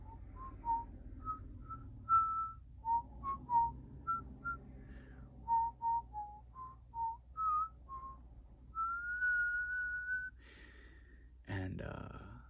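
A person whistles a flowing melody up close, with clear sustained and short notes, breaths between phrases, and a gasp near the end.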